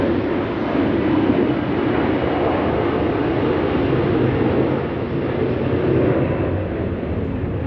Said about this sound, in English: you are going to get the occasional plane noise.